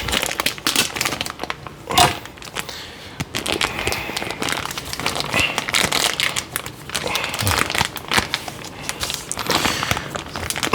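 Plastic packaging being cut open by hand, with close, busy crinkling and crackling, a few sharper rustles and snips, and quiet movement around it.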